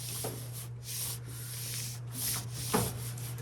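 Sheet of paper rubbed flat by hand directly on a table while mounting a gyotaku fish print, a steady close dry rubbing and sanding sound in long strokes, with no speech.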